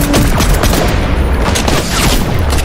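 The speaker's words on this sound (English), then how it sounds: "I just got sniped" Dense, booming gunfire from a team-rumble video game match, with a sniper rifle shot among near, loud, overlapping blasts that keep up steadily for a few seconds.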